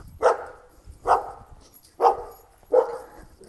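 A dog barks four times at a steady, evenly spaced rhythm, each bark close and clear against a quiet background.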